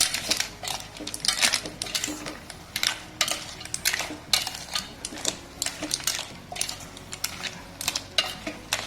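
A spoon scrapes and clinks against a pan while a Goan dry shell mixture is stirred, repeated metallic taps and scrapes in an irregular rhythm, close and fairly loud.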